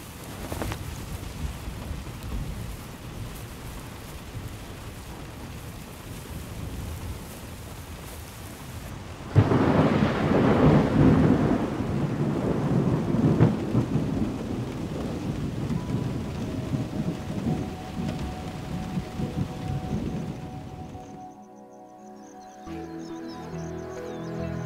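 Heavy downpour in the Serengeti with rolling thunder, steady loud rain hiss that surges into a stronger burst of storm noise midway before easing off, with distant rumbles at the end.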